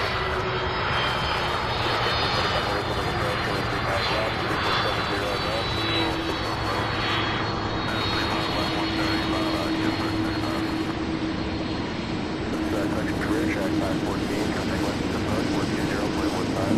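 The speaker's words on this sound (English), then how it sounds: "beautiful landing there, that MD-11" A McDonnell Douglas MD-11 jet airliner lands at an airport, its engines giving a loud, continuous roar that holds steady from start to end, with a voice talking underneath.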